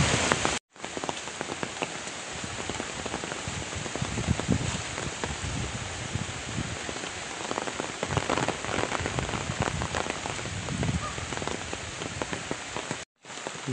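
Rain falls steadily on open ground and standing water, a dense, continuous patter heard close and fairly loud with no voices, briefly cut out near the start and end.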